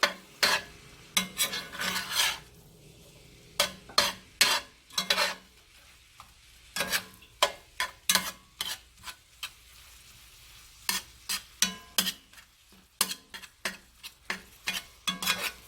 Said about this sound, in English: We're going to let that simmer up. This is on the medium heat, but you want to break all the meat down